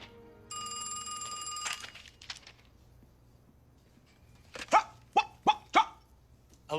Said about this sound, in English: Yes, ma'am, that's my dog.